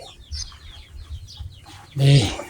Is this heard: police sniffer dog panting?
no